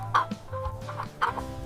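A chicken gives a short run of clucks, a few quick, fairly close calls spread over under two seconds.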